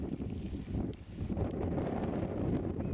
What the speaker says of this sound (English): And it's quite cold now with that wind. You can hear it buffeting me.